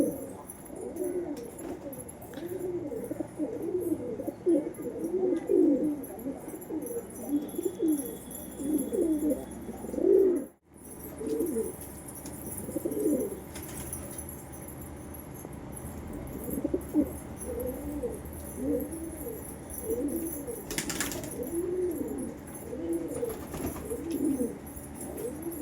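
Indian fantail and Andhra pigeons in a breeding pair coo continuously in repeated rolling phrases close by, with one brief dropout midway and faint rustling, no speech.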